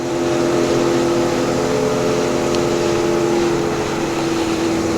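A Triumph Trident 660 motorcycle fitted with a 17-tooth rear sprocket cruises at about 60, its engine holding a steady, loud, continuous drone with no voices.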